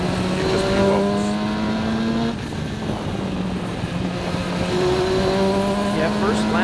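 Race cars including a Radical SR3 prototype roar through the opening lap of an SCCA club race at Summit Point, engines droning and shifting pitch at mid distance, continuous and loud beneath a commentator's voice.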